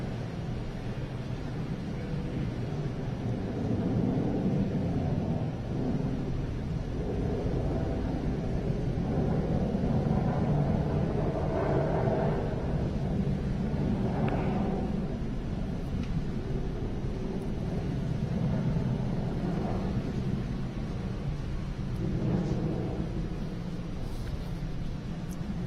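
A SpaceX Falcon 9 rocket's engines roar during launch as a continuous, heavy, distant rumble that stays steady and powerful throughout, with no voices.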